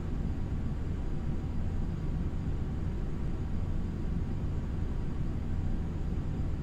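Steady, unbroken jet engine roar from a Bombardier CRJ700 airliner on final approach in a flight simulator, a broad, even wash of noise held at constant level with no voices over it.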